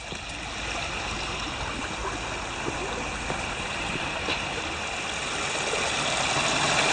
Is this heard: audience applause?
no